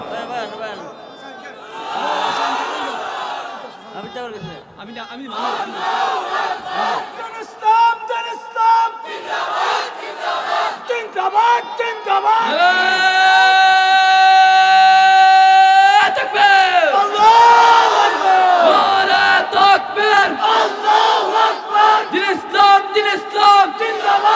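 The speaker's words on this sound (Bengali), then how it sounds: "বীর মুজাহিদের মতো একটা স্লোগান দাও" A large crowd at a religious gathering in Chandpur shouts slogans in loud, rhythmic bursts, answering a lead voice in call-and-response and swelling into a roaring, sustained chant.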